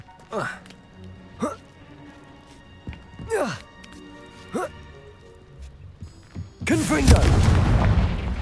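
Bombarda spell blasts in the Hogwarts Legacy game sound as repeated whooshing booms at irregular intervals, and a louder, sustained explosive roar closes it out.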